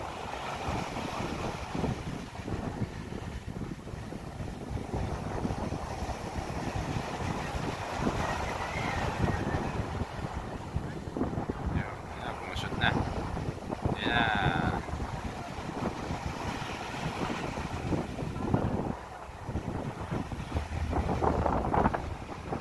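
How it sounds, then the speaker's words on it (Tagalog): Wind buffets the microphone on a fishing boat at sea with a constant rushing roar, mixed with water and boat noise and occasional faint voices, over small waves. "May hangin nga lang ngayon, pero kaya naman."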